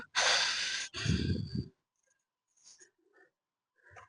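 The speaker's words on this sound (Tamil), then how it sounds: "மூச்சு வாங்குது பயங்கரமா." Heavy, breathless panting after a short uphill walk in the Sirumalai hills: two strong close exhales at the start, then fainter, scattered breaths fading into quiet.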